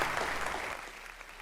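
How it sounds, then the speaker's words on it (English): Applause from the audience at a tech show premiere during a trade fair, a brief burst of clapping that fades noticeably within about a second. "And I ask you now for a big applause for Jardo."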